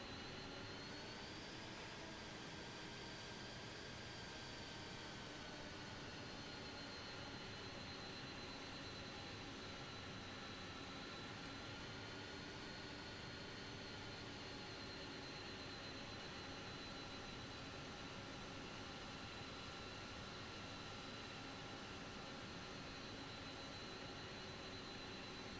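Airbus A300-600R jet engines in Microsoft Flight Simulator 2024 give a continuous, steady whine and roar with layered high tones, held evenly at a faint level throughout without talk.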